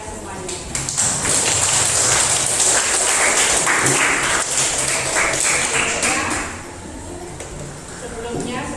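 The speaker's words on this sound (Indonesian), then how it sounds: "Aplaus buat kalian semuanya" A room of students at a classroom guidance session breaks into sustained applause, loud clapping that swells quickly and holds steady, then thins and fades toward the end with a slight pickup at the close.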